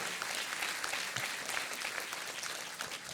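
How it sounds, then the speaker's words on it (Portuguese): A church congregation at a bishop's sermon claps energetically for Jesus, with dense, sustained applause that holds steady and loud throughout with no speech over it. "Vamos dar uma salva de palmas com energia a Jesus?"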